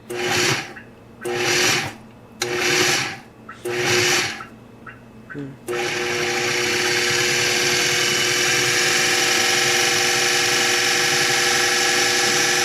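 Food processor pulsing a sticky, crumbly okara meatball mixture for vegan meatballs: four short whirring bursts with pauses, then a long continuous high-pitched run of the motor, close and loud.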